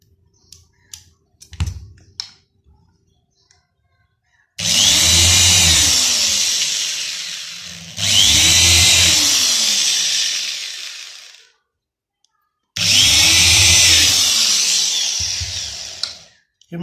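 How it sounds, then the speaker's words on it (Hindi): An electric drill bores holes through a card book cover for hand binding: three loud, sustained whining bursts of about three to four seconds each, separated by short pauses and preceded by a few faint taps. "ये मैं ड्रिल की मदद से सुराख करता हूँ।"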